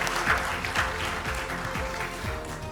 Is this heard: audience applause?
yes